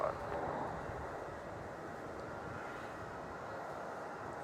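Jetstar airliner landing on runway 34 at Melbourne Airport, a steady broad engine roar with wind-like rush at moderate distance, continuous and fairly faint throughout.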